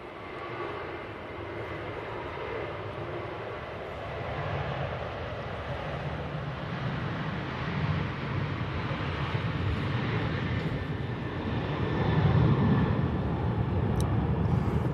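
A Jet2 airliner at Manchester Airport during Storm Ashley gives off a steady, sustained engine roar that swells slightly near the end, mixed with wind noise.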